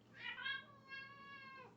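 A cat gives a single drawn-out meow with a rising then falling pitch, clear and fairly close in a quiet room.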